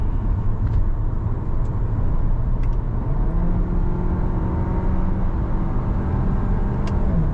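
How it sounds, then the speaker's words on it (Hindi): Inside a 2024 VW Tiguan 2.0 on the move, a steady engine drone and road roar hold throughout, with the pitch of the engine shifting as gears change through paddle shifters. Faint clicks sound occasionally. "पैडल शिफ्टर्स का ये कमाल है, रेस दिए दिए कर दो गेयर ऊपर नीचे।"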